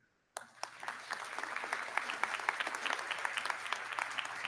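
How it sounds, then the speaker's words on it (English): Audience applause at a university commencement ceremony for the class of 2019 breaks out after a brief silence and continues as steady, dense clapping from a large crowd, with a constant low hum underneath. "can we get one more round of applause for the class of 2019, please?"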